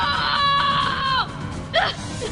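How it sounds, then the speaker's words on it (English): A cartoon character's loud, sustained scream of horror from an animated series story pitch, rising and holding before breaking off, followed by a short second cry. "He screams."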